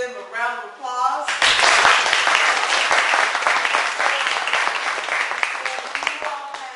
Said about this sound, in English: So we're going to give them a round of applause.